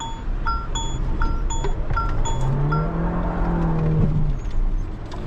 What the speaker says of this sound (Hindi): I will try drifting this car on U turn.